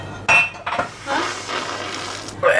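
Spoon stirring gingerbread-flavored coffee in a cup, with a few bright clinks against the rim and a steady scraping swirl in between, close and fairly loud.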